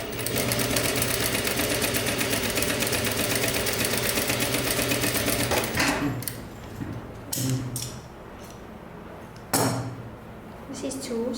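A sewing machine stitches kimono jacket straps, whirring steadily and close for about six seconds, then falls quiet. Scattered handling clicks and knocks follow the stop.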